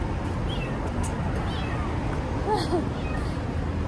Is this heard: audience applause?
no